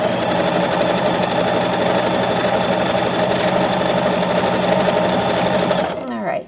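A sewing machine runs steadily for about six seconds, stitching a decorative M pattern with a loud, continuous motor whir. It winds down abruptly at the end.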